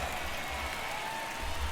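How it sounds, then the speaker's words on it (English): A stadium crowd in the MLB The Show baseball game applauds, a steady, even wash of clapping and crowd noise that holds at a moderate level throughout. "To a rousing applause."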